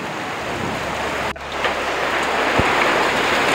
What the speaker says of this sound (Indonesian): Pasawahan telah terjadi hujan es.